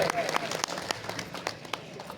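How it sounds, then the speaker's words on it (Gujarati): An audience at a student prize-distribution ceremony breaks into a short round of clapping, a scattered, moderately loud patter of claps with someone speaking over it. "જોરદાર તાળી"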